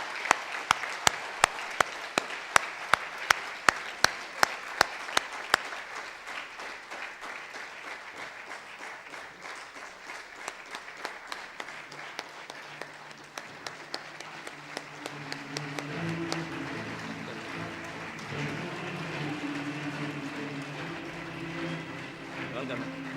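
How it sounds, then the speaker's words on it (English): Conference audience in Dubai giving a big round of applause to welcome a health presenter to the stage, sustained clapping with sharp individual claps standing out near the microphone, then a voice and music rising as the applause continues. "please welcome Dato Dr. Lim Siow Jin to the stage with a big round of applause"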